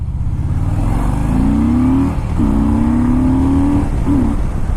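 A Harley-Davidson Fat Boy S with a 110 Screamin' Eagle twin-cam engine pulls hard from a rolling start in first gear, the close, loud exhaust note climbing in pitch in several rising surges.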